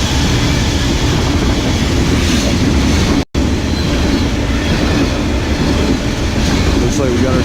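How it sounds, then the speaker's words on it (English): A loud, steady rumble of a long freight stack train rolling past close by, with rattling wagons and faint metallic clatter, briefly cut by a dropout. "Looks like we got ourselves a stack train"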